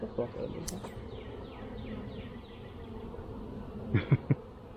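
Honey bees buzz around a nucleus hive during an inspection, a close, steady droning hum with a few louder passes, and a few short knocks near the end.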